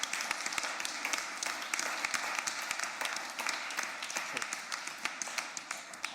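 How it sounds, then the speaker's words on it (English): Applause from an audience at a medical college ceremony, a steady crackle of many hands clapping at moderate, slightly distant level with sharper individual claps standing out throughout. "a round of applause for the group of people sitting at the back"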